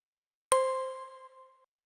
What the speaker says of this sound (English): like some little bell sample that is going through a lot of distortion, mostly, and also filtering it down just a little bit in the very high end